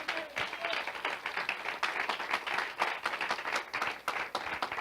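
A church congregation at a prayer service claps together in praise, a moderately loud run of brisk, somewhat uneven applause with distinct individual claps that continues for several seconds.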